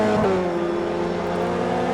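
Honda touring race cars drive around the Sebring circuit in a sim racing game, a steady, loud engine drone with a brief gear shift near the start.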